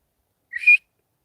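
A person whistles outdoors in Colorado as a call: one short, clear rising note lasting well under half a second, moderately loud and alone against silence.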